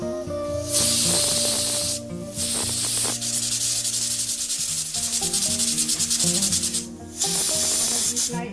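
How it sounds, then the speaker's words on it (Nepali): A pressure cooker of taro leaves on the stove lets off loud, sustained bursts of hissing steam, stopping and restarting several times with brief pauses between blasts. "कुकरमा फिर्को लगाएर अब कति सिटीमा पाक्छ तपाईँको कुकरमा त्यो अनुसारले"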